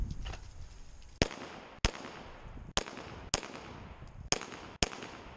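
Pistol shots at a USPSA shooting training session, six sharp loud cracks at uneven intervals of roughly half a second to a second, each with a brief decaying tail, and no talking.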